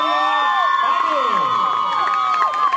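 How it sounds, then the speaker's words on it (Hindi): Audience at a dance competition event cheering and applauding loudly, with many overlapping high shouts and whistles over continuous dense clapping throughout. "जोरदार तालियों से स्वागत कीजिए।"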